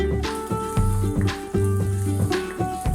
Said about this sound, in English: So now we're going to start frying the vegetables. Okay, we're going to start with the ginger.